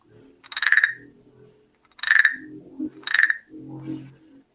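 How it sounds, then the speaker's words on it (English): Croaking tree frog calls from a handheld sound-making noisemaker: three loud, rasping bursts about a second apart, each followed by a lower rattling scrape, with a fourth softer grating call at the end, close and alone. "It sounds like a frog. Yeah, a tree frog."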